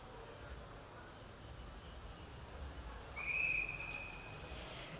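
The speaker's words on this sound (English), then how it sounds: "And there goes the whistle." A referee's start whistle at a velodrome keirin race in a junior track series in Sydney: one sharp, steady blast lasting about a second and a half, rising clearly above the hollow arena ambience.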